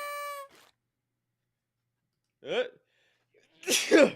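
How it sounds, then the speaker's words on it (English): A short tone, then a quiet pause broken by a breathy intake and one loud, close sneeze at the end. "I hate sneezing."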